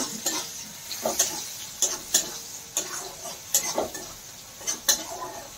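Onion and pumpkin frying in a pan with a little salt, a steady soft sizzle broken by repeated scraping taps of a spatula stirring at an irregular rhythm, close and fairly quiet.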